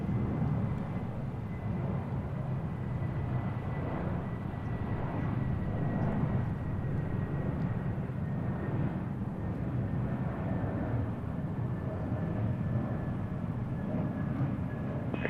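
An arriving aircraft at Seattle airport produces a steady, distant engine roar that holds evenly throughout, with no talk over it.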